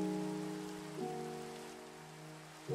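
Soft, steady rain in the video game Lenticular patters throughout, mixed with a sustained tonal hum of in-game ambient music, fairly quiet and without talking.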